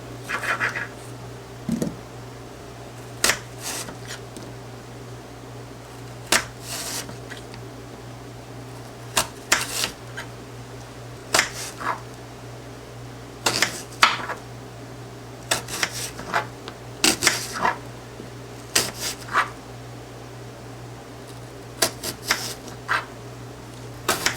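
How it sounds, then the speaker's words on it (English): Knife cutting an apple, a sparse series of short crisp cuts and clicks spread irregularly over a steady low background hum, close up and with no talking. "this is the way I cut an apple"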